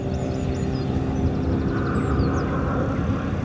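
A KLM Boeing 737-800 taxiing at Birmingham Airport gives a steady, broad jet engine rumble and whine, constant in level and fairly close, with faint higher tonal chirps above it.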